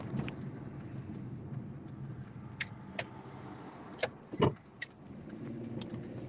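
Car traffic on a road heard from inside a vehicle, with a steady low engine rumble, a few faint clicks and a brief louder swell of a passing car near the middle.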